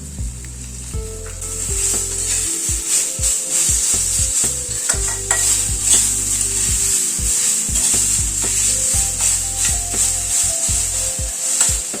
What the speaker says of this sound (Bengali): নারকেল কোড়াটাকে একটুখানি ভেজে নেব।